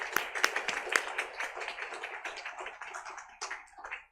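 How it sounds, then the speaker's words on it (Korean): Congregation at a Sunday church service clapping to encourage a newly registered member, a moderate, steady patter of many hands with a few sharper claps near the start, fairly close and without talk. "박수로 한번 격려하겠습니다"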